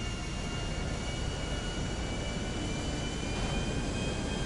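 Model airplanes fly between wires, giving a continuous, dense engine drone with a steady whine that holds even and fairly loud throughout, with no speech.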